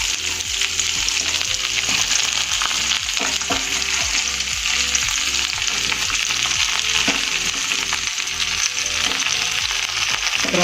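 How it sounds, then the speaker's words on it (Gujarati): Okra (bhindi) with masala frying in oil in a kadai over a medium flame, giving a steady, close sizzle. Faint rhythmic scraping of the stirring spoon comes through, and no one speaks. "ભીંડા સારી રીતે આપણે ફ્રાય કરી દઈશું"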